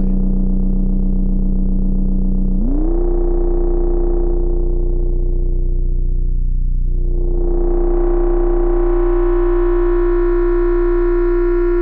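Flamingo synthesizer module tone shifting as its input attenuator is turned: a steady loud synth tone jumps up in pitch, then its bright harmonics fade and swell back dramatically, sustained alone throughout.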